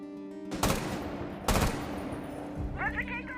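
In the game Rainbow Six Siege, two loud, sharp gunshot bursts ring out about a second apart, each with a short echoing tail, over a faint steady background hum, ending with a brief electronic chirp.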